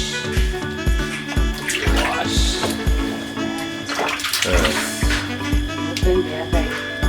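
Running water splashing steadily as a fish is washed, with a regular rhythmic thumping underneath and a voice speaking over it now and then.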